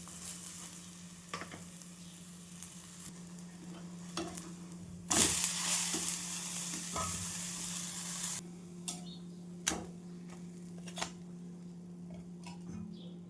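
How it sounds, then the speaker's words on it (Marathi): A vegetable breakfast pancake sizzles quietly on a hot pan, with occasional spatula taps and a louder burst of frying around the flip before it settles back to a low, even crackle. "ते पण छान पलटून घ्यायचं आणि छान खरपूस भाजून घ्यायचं"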